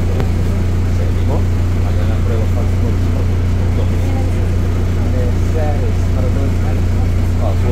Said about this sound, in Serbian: Ušli smo u autobus.